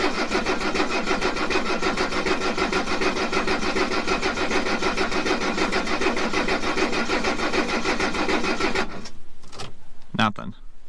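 An old Mercedes diesel that has sat in a garage for twenty years cranks repeatedly with a rhythmic, loud starter churn for about nine seconds without catching, then stops, leaving a few faint clicks.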